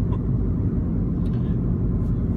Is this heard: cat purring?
no